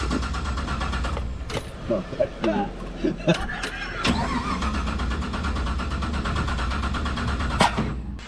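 A V8 FJ45 Landcruiser rat rod cranks over with several bursts from the starter motor before the engine catches and settles into a rough idle, close by, while people talk nearby.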